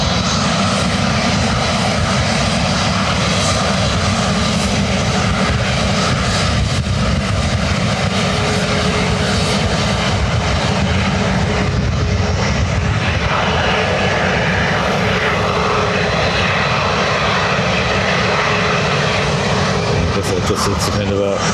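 A jet airliner's engines roar loudly and continuously at Lanzarote Airport on a sunny day, a broad steady thrust rumble close by with faint speech mixed in.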